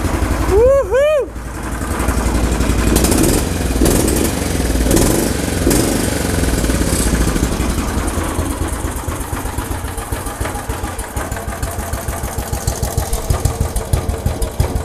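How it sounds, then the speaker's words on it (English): Turbocharged lawnmower engine with a high lift cam runs close and loud with a lumpy, uneven idle, its pulsing chug continuing throughout after a brief whoop of voice at the start. "she's got a lumpy idle due to that high lift cam"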